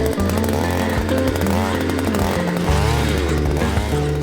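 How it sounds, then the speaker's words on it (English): A petrol auger machine drills into the ground on a rural homestead renovation in Portugal, its engine roaring loud and steady at close range with shifting pitch as the bit bores and loads. "So, my first time using an auger machine."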